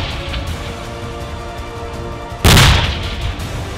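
A Ukrainian artillery gun fires once with a loud, close boom that cuts through a steady background rumble and then slowly decays.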